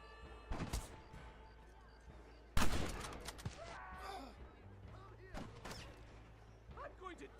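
Gunfire in the video game Red Dead Redemption during a shootout, with a few sharp shots and one loud blast among echoing game sounds while a voice talks intermittently.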